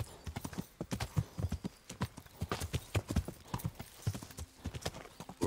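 Steady clip-clop of a tiring horse's hooves trotting in an even rhythm in the video game Kingdom Come: Deliverance, close and clear, with a brief whinny and faint background ambience.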